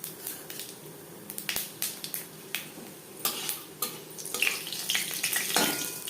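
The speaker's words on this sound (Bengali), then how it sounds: "পনেরো 20 সেকেন্ড পাঁচফোড়ন ভেজে নেওয়ার পর দিয়ে দেবো রসুন" Panch phoron spices and broken dried red chillies fry in hot mustard oil for masoor dal, crackling and popping in quick irregular bursts with occasional clinks of a utensil against the pan.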